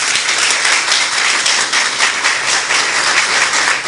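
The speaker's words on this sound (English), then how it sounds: "Let's give her a round of applause." Crowd at a political rally claps for a candidate's elder sister, a loud, dense round of applause that carries steadily without anyone speaking.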